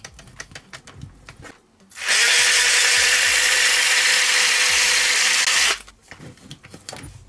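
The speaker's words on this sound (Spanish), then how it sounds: "Si tenéis un taladro así de estos, un atornillador, esto es de Ikea y va súper bien porque la hacéis así." A small lightweight IKEA cordless drill-screwdriver spins to twist wool for doll hair, a loud, even, high whine lasting about four seconds, bracketed by quiet handling clicks and taps before and after.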